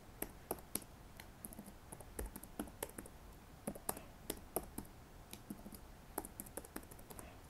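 Irregular clicking of keys on a computer keyboard, quick taps in uneven bursts with short pauses, fairly faint and close, no voices.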